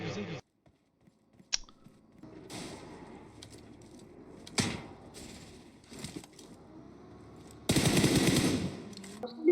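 Bursts of rapid gunfire and sharp shots in PUBG Mobile, irregular and loud, with a sustained burst near the end and quieter mechanical noise between.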